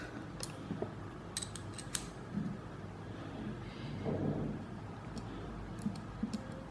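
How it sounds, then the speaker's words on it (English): Small screws are driven back into a QSP Parrot folding knife with a T6 driver, quiet close clicks and faint scraping ticks scattered irregularly over a soft background. "let's put back the back screws"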